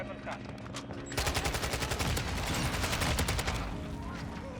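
Kastov-74u submachine gun firing in Modern Warfare 2, a rapid, loud automatic burst of closely spaced shots running for several seconds after a quieter opening with scattered sounds.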